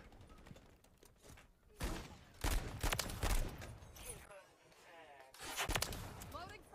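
Pistol gunfire in the Modern Warfare 3 video game, scattered sharp shots and bursts of mixed battle noise at moderate loudness, with a person talking over parts of it.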